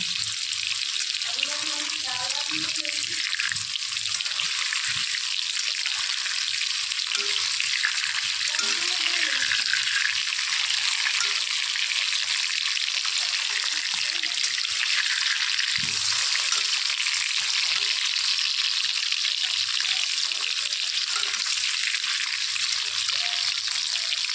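Potato pieces frying in oil on a low gas flame for chicken biryani, giving a constant, even hiss that runs throughout, with a few faint voice-like sounds in the background.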